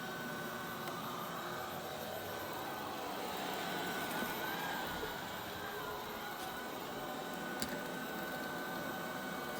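A Diamond Chanel robot vacuum running indoors, a faint, steady motor whir and hiss with a few small clicks and bumps.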